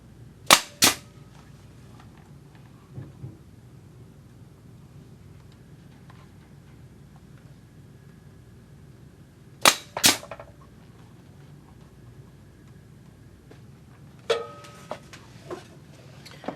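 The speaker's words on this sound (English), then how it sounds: "I'm going to start with 3 initial staple tacks to hold it on" Staple gun tacking a clog upper to its base, sharp loud snaps in quick pairs with long pauses between them, followed by a few lighter clicks.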